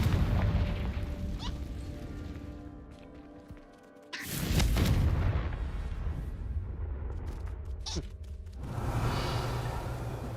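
A Confringo fire spell bursts in Hogwarts Legacy with a loud booming blast and a rumbling tail, set against game ambience, with another burst following a few seconds later.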